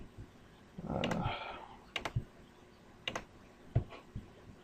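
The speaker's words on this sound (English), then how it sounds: "type whatever you want" Typing on a computer keyboard: several short bursts of clicking keys, close and fairly quiet, following a brief stretch of voice.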